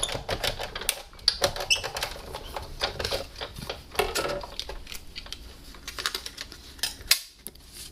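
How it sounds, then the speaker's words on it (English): A Big Shot die-cutting machine cranks cardstock through under a cutting plate, giving a steady run of close, dry mechanical clicks and rattles with a few sharper knocks. No one speaks. "run it through the Big Shot"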